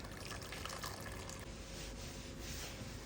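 A large, cleaned whole chicken, tied up, is lowered into a pot of hot water, making a steady, close sloshing and trickling of liquid with no voices.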